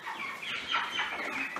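Broiler chickens cluck softly in their pen, a faint, continuous chatter of overlapping calls heard from a short distance without any voices.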